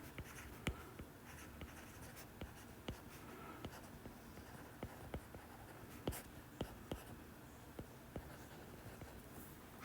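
A pen scratches out a chemistry gas-law equation by hand, faint, close strokes and small taps in an uneven rhythm over a soft background hiss, with no talking.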